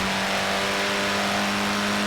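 A Mini Cooper S engine in Forza Horizon 4 revs hard and steady, a loud, continuous buzzing drone with a strong held pitch close up and no talking over it.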